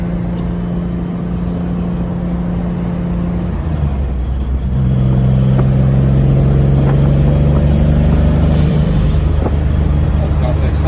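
A turbocharged Acura Legend car accelerating from inside the cabin, engine drone rising and shifting pitch with a turbo whine above, steady and loud throughout.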